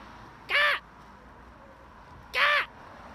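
A blue and gold macaw outdoors lets out two loud, harsh squawks about two seconds apart, each short and close, over a quiet background.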